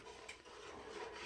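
A thick mixture being scraped and stirred around the sides of a pot, a steady, soft, gritty rubbing that runs continuously and quietly throughout with no voices.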